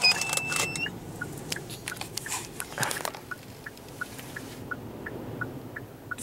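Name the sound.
car vibrating in 70 mph wind gusts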